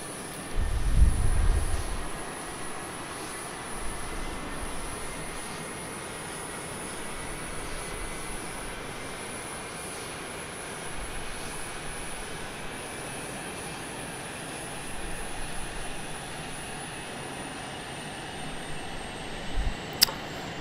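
An F-22 jet engine in Microsoft Flight Simulator 2020 spools up with a rising whine and steady roar building over about twenty seconds, with a thump near the start.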